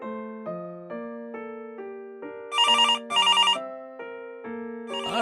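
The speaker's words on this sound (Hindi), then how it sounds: "ये मोबाइल की जगह लैंडलाइन खनखना रहा है" A landline telephone rings in bursts of bright bell trills, two close rings standing out loud over a steady synthesized musical tone pattern, with no voices.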